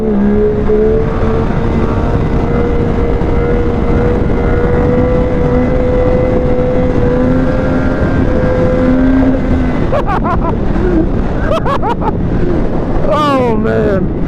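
A Yamaha YZF R-series sport motorcycle engine drones steadily under heavy wind buffeting, then revs in quick rising surges near the end.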